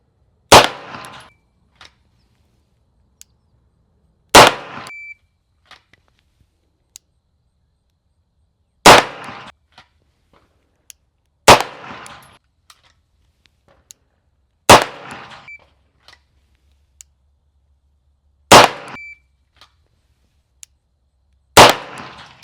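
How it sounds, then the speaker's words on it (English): Seven loud, sharp pistol shots from a Beretta M9A4 fired double action at 25 range, each a distinct crack with a short decay, evenly spaced about three to four seconds apart in otherwise quiet surroundings. "Fan favorite, the Beretta M9A4, and we will be firing from 25 in double action."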